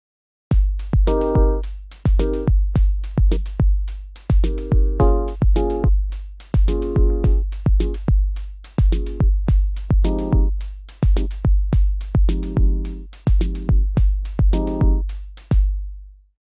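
Logic Ultrabeat synth playing a looping, chopped electronic beat: sharp repeated hits with deep low thumps and tonal mid bursts whose lengths shift as the amplifier envelope changes, loud and steady with no voices.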